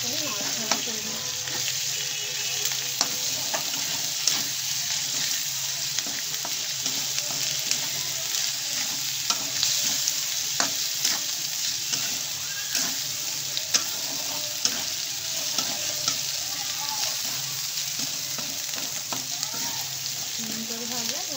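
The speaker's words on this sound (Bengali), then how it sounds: "এটাকে আমি ভালো করে নাড়াচাড়া করে নিচ্ছি।" Spiced masala with red chili powder stirred in a pan for chicken kosha, giving a steady close sizzle broken by frequent scraping clicks of the spoon throughout, with no talking.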